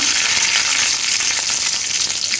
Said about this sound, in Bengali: তেলের মধ্যে একটু ফোড়নের জন্য 5 ফোড়ন আর একটা কাঁচা লঙ্কা দিয়ে দেবো